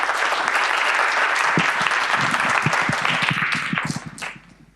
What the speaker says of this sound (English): Let's give them a round of applause first.